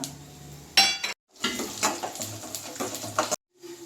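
Mustard seeds, urad dal, chana dal and dried red chillies frying in oil for lemon rice, with soft sizzling and spatula scrapes and clinks against the pan, broken by two short pauses.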